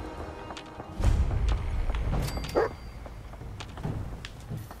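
Dog barking in the video game Fallout 4, a few short yips and whimpers with a thud, close and brief over low game ambience, no speech.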